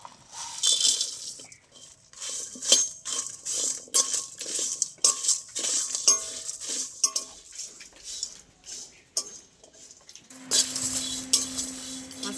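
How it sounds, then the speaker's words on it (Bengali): Whole spices, including cardamom, cloves, cinnamon, fennel and dried chillies, are dry-roasted and stirred in a pan, giving close, irregular scraping and rattling clinks with short pauses, then a steady low hum near the end. "শুকনো খোলায় আমি কিছু মশলা ভেজে নেব"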